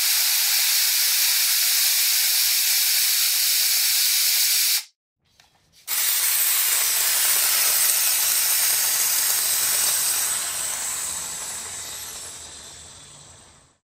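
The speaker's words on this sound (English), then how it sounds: "I'm going to fully let all the air out of the compressor" Compressed air rushes out of a Craftsman air compressor tank in a loud, steady hiss that cuts off for about a second, then resumes and slowly tapers off.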